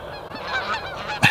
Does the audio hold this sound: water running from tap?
no